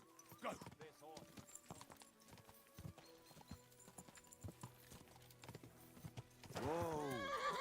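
Video game horse from Kingdom Come Deliverance 2 clopping along at a brisk rhythm, then letting out a loud, close whinny near the end, with a voice speaking over the hoofbeats.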